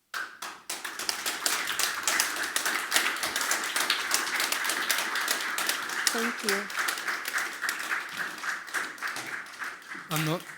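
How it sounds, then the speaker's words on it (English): Sustained, dense applause from an audience at the close of a journalist's talk fills the whole stretch, loud and steady with many overlapping claps, fading briefly near the end; a voice speaks briefly over it. "It was a loud applause and recognizing smiles"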